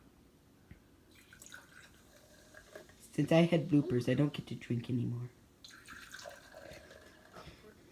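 Sugar-free energy drink is poured into a glass, a loud gurgling splash lasting about two seconds, then a faint fizz, with people talking quietly before and after.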